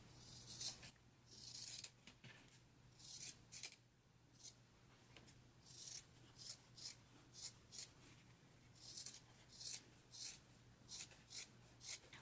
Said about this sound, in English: Now I'm going to go ahead and trim my seams.